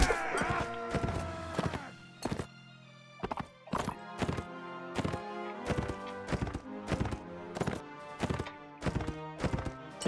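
Horse hooves pounding in Mount & Blade: Warband, a steady run of sharp, close clip-clop beats at a brisk even rhythm with a musical ring, over about ten seconds.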